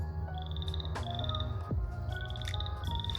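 A frog croaks in repeated short, pulsing trills that are fairly close but quiet, with pauses between them, over steady low background noise.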